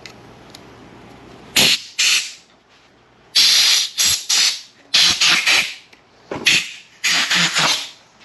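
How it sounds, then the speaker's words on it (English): Compressed air from an air compressor's blow gun blasts under a rubber grip on a 2021 Yamaha MT-09 SP handlebar to pop it off: a series of loud, close, sharp hissing bursts of varying length, separated by short pauses. "we're going to see if we can use the air compressor to pop these grips off"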